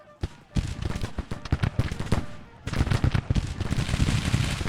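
Musket volleys from Civil War troops in Grand Tactician: The Civil War ring out as dense, rapid crackling shots, with a short lull before a renewed, heavier burst of fire. Someone talks over it.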